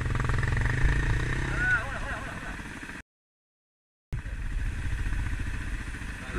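Dirt bikes, a Yamaha XT, a Yamaha WR and a CRF 250L, ride on a trail in Trinidad with their engines rumbling under people talking. The sound cuts out for about a second partway through, then the engine noise returns.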